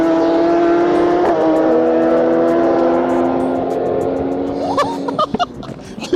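A stretched Kawasaki ZX10R motorcycle drag-races a tuned Porsche 911 Turbo S on the street, one loud sustained engine roar holding a steady high pitch before easing off, then a few sharp pops and bursts near the end.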